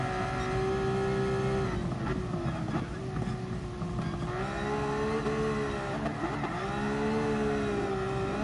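Car engine in Gran Turismo Sport drifting on the Nordschleife, a steady sustained drone with rising and falling pitch as revs swing, continuous and loud throughout with faint tyre and track noise.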